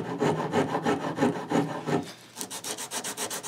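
A hand rasp scrapes along a wooden guitar neck being shaped by hand, steady back-and-forth strokes at close range, heard alone, with a brighter, quicker run of strokes near the end.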